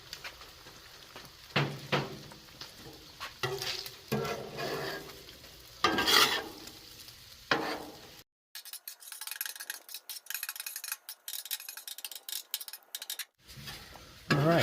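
Eggs scrambled on a Blackstone griddle: steady sizzling with repeated scraping and stirring strokes of a metal spatula, close and moderately loud; the second half turns thinner and more crackly with sharp clicks.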